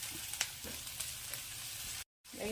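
Green chillies fry in a pan with ginger and curry leaves, giving a steady, close sizzle with faint stirring scrapes. A short gap of silence interrupts it near the end before the frying resumes.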